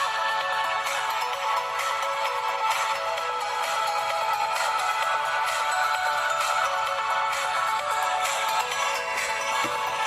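A Sony Ericsson K700i phone plays its ringtone through its single rear speaker, a bright, treble-heavy melody of rhythmic repeating tones. It sounds continuously for about ten seconds at steady moderate volume, with no talking.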